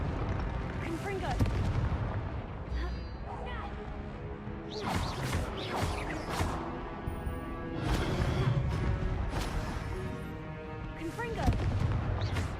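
Repeated Confringo blasting spell explosions in the video game Hogwarts Legacy, a series of loud booming blasts and crashes bursting every second or two over a dense din of combat effects.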